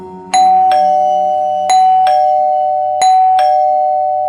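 A doorbell in a haunted rented house in Depok chimes loudly in three ding-dong pairs, each two-tone chime ringing out and decaying in a quiet room.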